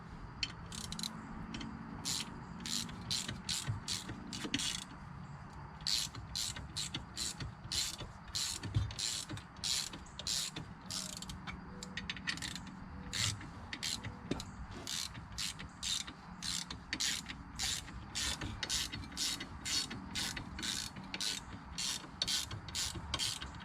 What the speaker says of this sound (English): once you have these first hand threaded in, you should be able to ratchet them in